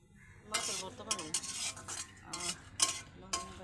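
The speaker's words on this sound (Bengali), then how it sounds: "মা, তুমি মরিচ ভাজতেছো কেন?" Chilies fry in a pan, with soft sizzling under repeated scraping and stirring clinks of a utensil against the metal, fairly quiet and close, with no speech.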